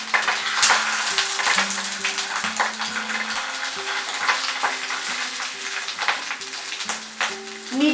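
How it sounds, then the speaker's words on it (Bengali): Bengali chhana paturi, cottage cheese parcels, fry on a tawa over medium heat, giving a continuous close sizzle and crackle with occasional bubbling pops and light utensil taps, without talking. "মিডিয়াম আঁচে রেখে আমরা প্রথমে এটাকে 5 মিনিট ফ্রাই করব।"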